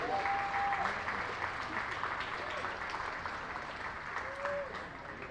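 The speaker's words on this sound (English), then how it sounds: "Fans, how about one more round of applause for the Ron Perry Memorial Scholarship Award winner" A stadium crowd at a high school baseball championship game applauds steadily for a memorial scholarship award winner, a dense, sustained wash of clapping with a few whistles, tapering slightly near the end.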